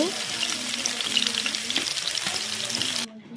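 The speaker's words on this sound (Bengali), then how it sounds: "প্রথমে মাছগুলো ভেজে নেব।" Whole fish sizzle steadily as they fry in hot oil in a home Bengali kitchen, a dense continuous crackle with faint clinks of utensils, stopping abruptly near the end.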